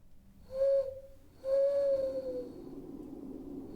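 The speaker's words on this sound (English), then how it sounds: "In the distance, somewhere far above her head, an owl hooted." An owl hoots twice in a dense woodland, two clear tonal calls with the second held longer, followed by a faint breathy background hiss.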